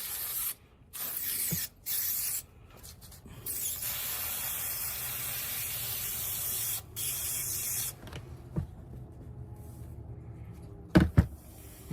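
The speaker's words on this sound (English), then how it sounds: "going to spray a little bit on the back of this cloth" A spray adhesive can hisses in long steady bursts onto the back of a cloth, with brief pauses between them, close and fairly loud, and a few soft knocks and rubbing sounds follow.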